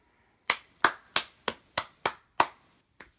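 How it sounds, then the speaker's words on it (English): Hands clapping eight times in a slow, evenly spaced rhythm, each clap sharp and close with a short decay, then a fainter final clap, in a quiet room without talk. "Round of applause for you."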